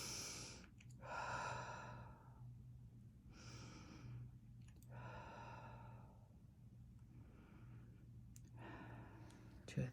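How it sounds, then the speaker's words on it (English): Slow deep breathing, drawn in through the nose and blown out through the mouth, repeated several times in long, airy rounds; close and soft, with a low steady hum beneath. "you do the deep breathing in through the nose"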